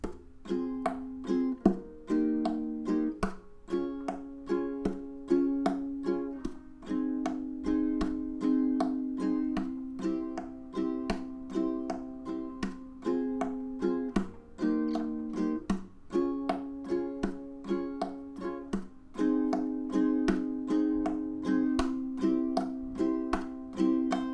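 Ukulele strummed in a steady, bouncy rhythm, cycling through a chord progression with crisp percussive strokes, played alone and close.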